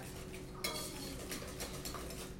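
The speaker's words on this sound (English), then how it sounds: "Whisk this together." Ingredients for fermented ketchup being whisked together in a bowl, a steady scraping and clinking of whisk against the container over a couple of seconds, close and moderately loud with no talking.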